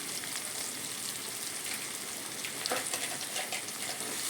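Masala frying in oil for a village-style anchovy fish curry gives a steady, close sizzle with light scraping near the end, and no voice over it.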